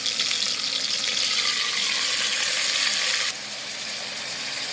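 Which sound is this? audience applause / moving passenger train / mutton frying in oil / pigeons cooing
mutton frying in oil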